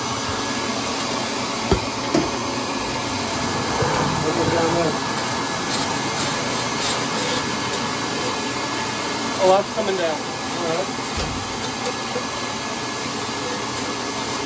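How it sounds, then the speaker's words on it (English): Vacuum running steadily throughout boiler cleaning on a carbonized Weil McLain boiler, a constant broadband whir with debris rattling down at moments, while people talk over it. "I got the vacuum running too."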